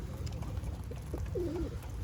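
Soft, low cooing of Turkish dolapçı pigeons close by, several overlapping murmurs with a rising-falling coo near the end, over a rumbling background.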